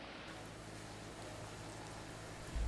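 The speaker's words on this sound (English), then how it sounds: "The rain has been falling steadily since last night, flooding several streets near downtown Nevada." Heavy rain pours onto a flooded street near downtown, a dense, steady hiss of water with a low background rumble throughout, no voices.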